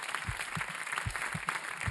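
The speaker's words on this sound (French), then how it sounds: "je pense qu'on peut applaudir Camille" Clapping on a French TV show set, a small group applauding with distinct, close hand claps in an uneven rhythm over a steady background hum.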